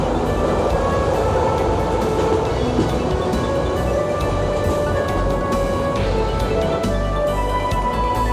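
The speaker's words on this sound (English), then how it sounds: "Switzerland's highly maintained railroads assure passengers of a smooth ride, even in the most rugged areas." A Swiss train runs smoothly along a mountain railway, a continuous close rumble of wheels on track with faint rhythmic clicks throughout.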